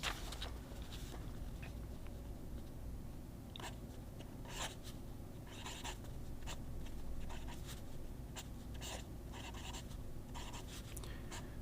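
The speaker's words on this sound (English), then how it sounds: "let's just see how this pen writes" A Delta Dolce Vita Mini pen writes on paper close up, soft scratchy strokes coming in irregular bursts over a low steady background hum, faint and without talk.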